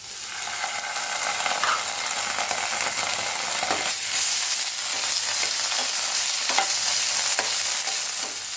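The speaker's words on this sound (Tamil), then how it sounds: "இப்போ வெங்காயம் நல்லா வதங்கி வந்துடுச்சு. இதில் இஞ்சி பூண்டு பேஸ்ட்," Onions sauté with ginger garlic paste in a hot pan for a prawn roast. A steady, loud sizzle runs throughout, with occasional scraping stirs of a spoon and no talking.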